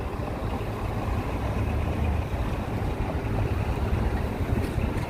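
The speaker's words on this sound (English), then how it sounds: "Yep, it's windy again," Steady wind blowing through the streets of Midtown Manhattan, a dense, continuous roar of gusty air mixed with city rumble, loud and unbroken throughout with no voices.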